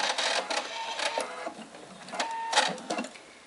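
Sewing machine back stitching a fabric bowl, brief close rattling runs that stop and start, moderately loud with no talk.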